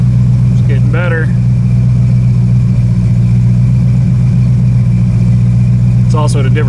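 An AMC 304 V8 with an Aces EFI Classic system runs on a dyno, giving a loud, steady low drone throughout, with brief voices heard faintly over the engine.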